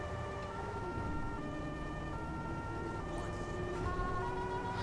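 A Ford Crown Victoria police siren in the GTA 5 video game wails steadily at moderate level over a low rumbling engine and traffic bed, continuous for several seconds with no talk.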